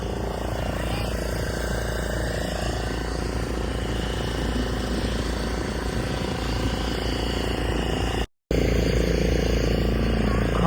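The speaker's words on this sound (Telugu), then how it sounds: "మనమైతే బోట్ ఎక్కినాము, బోట్ లో ఉన్నాం, పోతాం" A boat engine drones steadily beneath passengers riding along, a constant low rumble with wind and water noise; voices are faint in the mix, and the sound cuts out for a brief instant near the end.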